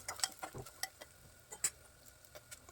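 Peanuts and three or four curry leaves roast in hot oil, giving soft scattered sizzles, pops and light stirring taps, faint and close, with no talk.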